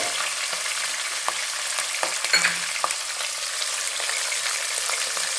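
Green chillies frying in ghee in a pan for kharabath, giving a steady, close crackling sizzle with a few small pops and spatters throughout, no voices.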